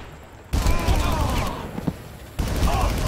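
Rapid bursts of automatic gunfire in the Far Cry video game, loud sustained volleys with a short pause and a brief quieter gap between bursts, with a voice talking over parts of it.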